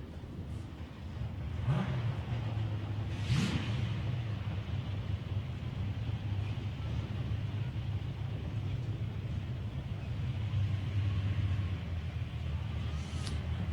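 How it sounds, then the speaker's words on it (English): A Hillman Hunter drag car fitted with a 327 cubic inch Chevrolet V8 idles and burbles steadily at a drag strip, a loud continuous engine rumble with a couple of brief revs near the start. "He's running a Hillman Hunter, running a 327 cubic inch V8 in it, little Chevrolet"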